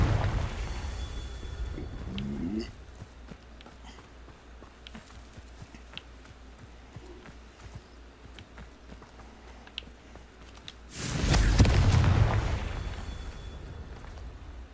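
A Confringo fire spell in Hogwarts Legacy bursts into a loud, close, roaring explosion about two-thirds of the way through, after a long stretch of quieter game ambience.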